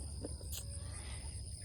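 Grasshoppers chirping in a farm garden among tomato plants, a continuous high insect trill with a couple of brief faint chirps, steady and moderately quiet, no talking.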